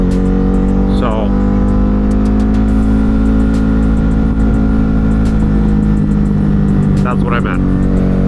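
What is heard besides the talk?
Ducati Hypermotard 950 motorcycle engine popping and snapping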